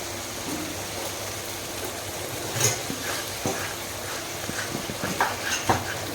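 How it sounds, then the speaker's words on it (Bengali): Spice masala and sour paste stir-frying in oil in a pan, a steady soft sizzle with scattered spoon scrapes and stirring clicks, louder near the middle and end. "আমি টক দিয়ে ভালো করে এটাকে কষাবো যতক্ষণ না পর্যন্ত তেল ছাড়ে।"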